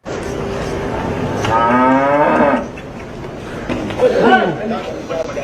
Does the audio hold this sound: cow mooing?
yes